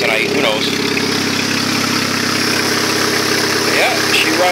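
A 2.2 litre Ecotec engine swapped into a 2000 Saturn LS idles with its exhaust not yet fully connected, giving a steady, loud, even rumble with a faint mechanical whine throughout.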